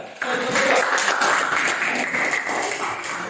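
Audience applause for a student group after their classroom presentation, a dense steady patter of many hands clapping from start to finish, fairly loud with some room echo.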